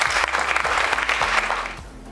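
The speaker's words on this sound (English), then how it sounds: "So a big round of applause for all of the students who had the courage to come here and present their projects" Loud, close applause from an audience honoring students after their exam project presentations, dense clapping that holds steady and then tapers slightly near the end.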